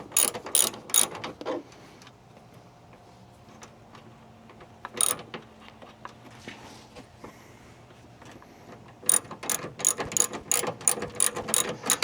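Socket ratchet tightening screws while installing a battery maintainer in a car: close, loud bursts of rapid ratcheting clicks at the start and end, with quieter tool handling and clinks in between, no talk.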